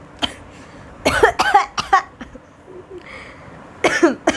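A woman coughs close up, starting with one short cough and then breaking into several harsh bursts, with a pause before a final cluster.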